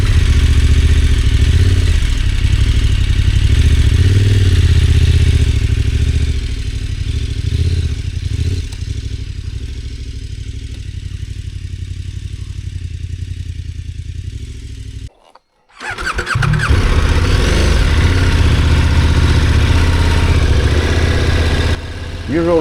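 Heavy adventure motorcycles idle and rumble loudly on a deep-sand trail in Sweden, a low steady engine drone that briefly cuts out before resuming, with people talking nearby.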